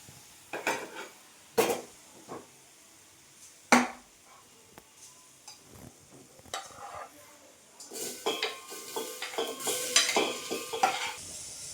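Beans and carrot sauté in a pan for hotel-style sambar, with a soft sizzle beneath clinking and scraping of a metal spoon against the vessel in uneven strokes, busier and denser toward the end.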